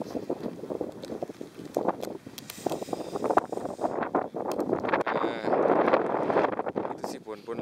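Wind gusting across the open sand desert of Bromo, a loud, continuous buffeting roar with rising and falling gusts, with people talking intermittently throughout.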